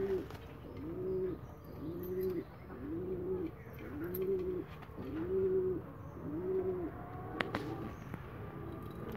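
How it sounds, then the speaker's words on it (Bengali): Racing pigeons coo in a steady rhythmic series of about six soft, throaty phrases, close by and alone, with a few faint clicks near the end. "আর এগুলি হলো রেসার কবুতর"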